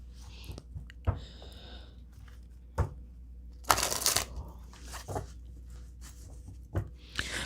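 A deck of tarot cards being shuffled by hand, soft riffling and sliding card sounds with occasional sharper slaps, fairly quiet and close against a low background hum.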